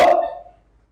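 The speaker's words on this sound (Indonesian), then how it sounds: "Baik, tepuk tangan untuk kita semua." A single sharp burst of clapping in a classroom, one short loud hit that quickly fades into quiet, with no talk over it.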